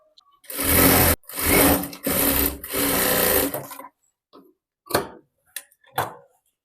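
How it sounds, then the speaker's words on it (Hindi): A sewing machine stitches a folded blouse neck strip in four loud runs of steady whirring, each a second or less apart, followed by a few faint, sparse clicks and taps. "अब यहाँ पे मैं 1/2 इंच इस तरीके से अंदर की तरफ पट्टी पे फोल्ड करके सिलाई ऊपर की तरफ से ही लगा रही हूँ"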